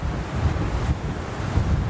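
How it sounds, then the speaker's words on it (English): Strong wind gusts on a rocky coast above turquoise water, roaring and buffeting the microphone in a steady rumble, with surf washing underneath and no talk. "It's just too windy."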